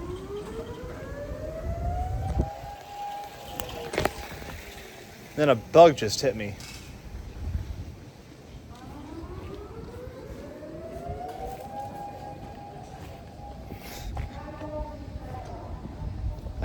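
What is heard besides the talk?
siren going off outdoors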